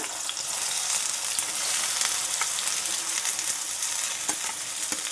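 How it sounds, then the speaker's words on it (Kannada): Onions fry in hot oil for paneer bhurji, a constant close sizzle with scattered crackles and light clicks of a spoon against the pan. "ಎಣ್ಣೆ ಕಾದ್ಮೇಲೆ ಇವಾಗ ಈರುಳ್ಳಿ ಹಾಕ್ಕೊಳ್ಳೋಣ"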